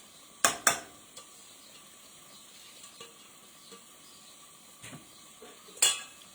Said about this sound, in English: Just stir that.